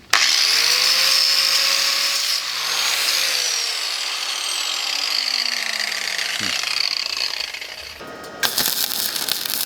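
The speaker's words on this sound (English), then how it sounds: "So I'll get the grinder, get this cleaned up." An angle grinder cleaning up fresh welds on an engine lift runs loud and steady throughout, its whine rising and falling in pitch as it spins up and bites into the metal, with a brief clatter near the end.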